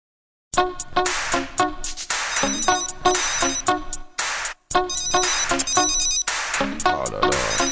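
A mobile phone ringtone plays loudly and continuously, a repeating electronic melody with a brief break partway through.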